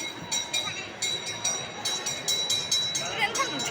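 A passenger train runs along the rails at a distance, a fairly quiet rumble broken by regular clicking beats from the wheels, with a faint murmur of voices in the background.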